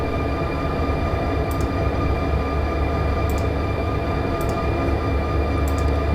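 Train rolling in the Run8 railroad simulator, a steady loud rumble with droning engine tones and a few faint high clicks or squeals, continuous with no talk.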